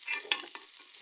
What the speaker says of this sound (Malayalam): ഇതാ കുറച്ച് കറിവേപ്പിലയും ചെറിയ ഉള്ളിയാണ് അതിലേക്ക് തൂമിച്ചിടുന്നത് കേട്ടോ